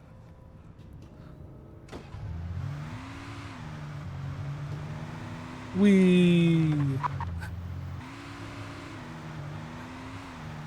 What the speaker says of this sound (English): Spared no expense for the car driving physics and sound effects.